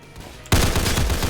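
Sudden burst of automatic gunfire in a Roblox CS:GO-style shooter, starting abruptly after a brief quiet lead-in and continuing as rapid, evenly spaced shots, loud and close.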